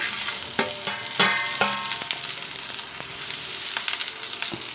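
Eggplant pieces dropped into a pan of frying onions crackle and sizzle steadily, with sharp clacks of a spoon stirring and scraping the pan at close range, no voices.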